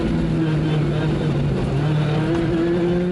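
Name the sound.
rally car driving fast on bumpy tarmac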